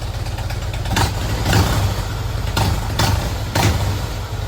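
A 2008 Harley-Davidson Heritage Softail Classic idles steadily close by, a low rumbling beat with a few brief rises in revs and no talk.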